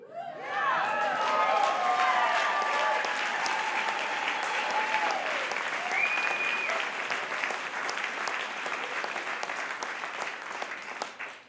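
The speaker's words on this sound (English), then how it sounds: "And I don't know another room that would applaud that." An audience bursts into sustained applause in a room, clapping loud and steady before slowly tapering off, with a few faint voices mixed in.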